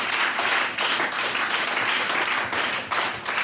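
A church congregation bursts into sustained, dense applause and clapping, loud and continuous throughout with slight surges, no voices standing out.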